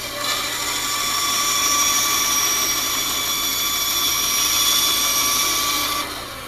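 A wood lathe spins an inside-out ornament with a steady, high-pitched whine that rises as it comes up to speed, holds evenly for several seconds, then drops away at the end.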